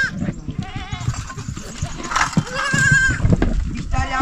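Goats bleating repeatedly on a farm, several wavering calls close by, with people talking over and between them.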